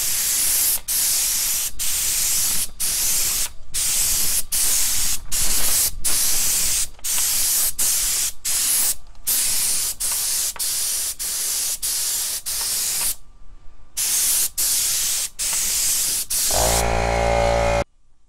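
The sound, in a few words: spray can applying 2K clear coat to a car headlight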